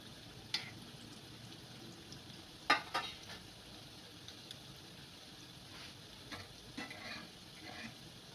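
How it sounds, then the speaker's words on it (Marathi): Balushahi dough pieces frying in oil on low heat, a soft, steady sizzle with a few scattered clinks and taps from a utensil. "संपूर्ण बालुशाही तळेपर्यंत कमी गॅसवरतीच तळून घ्यायची आहे."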